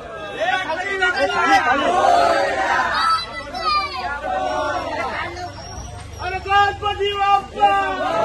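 Crowd chatter fills a busy Ganesh idol workshop in Thane where idols are being painted and decorated, with several overlapping voices babbling close by and steadily throughout.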